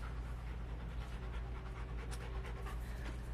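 A dog pants quickly and rhythmically close by, a soft, steady breathy sound heard alone at low volume.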